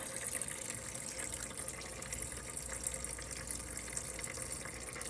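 Coolant draining from the radiator drain plug of a 1998 Toyota Camry LE during a cooling system flush, a continuous faint splashing trickle of liquid that stays even for several seconds with no talking.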